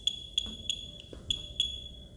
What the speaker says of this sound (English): the buzzer has started buzzing